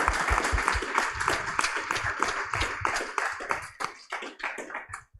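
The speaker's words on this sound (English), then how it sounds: "One more final round of applause for Algatex." An audience applauds a biotech showcase presentation with a burst of distinct, fairly close hand claps that rattle on for a few seconds, then thin out and trail off into scattered claps.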